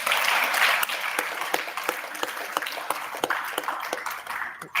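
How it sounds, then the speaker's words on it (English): Audience clapping at a menstrual dignity event in Nigeria, a steady crowd patter with distinct sharp claps, fairly close and tapering off near the end, with no voices over it. "Please clap for her."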